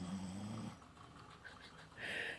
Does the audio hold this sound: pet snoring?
yes